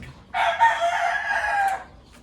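A black gray gamecock rooster crows once, loud and close, a single sustained call lasting just over a second with no talking over it.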